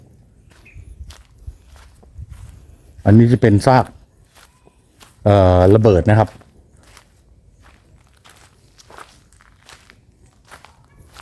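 Footsteps walk into a war museum in Siem Reap, Cambodia: a steady run of soft steps under close talk, broken by two loud bursts of something else.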